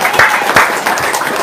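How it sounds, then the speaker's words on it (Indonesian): Audience applause at a live talk event, a short dense burst of many people clapping together, close and loud with a few sharper individual claps standing out. "Tepuk tangan ya."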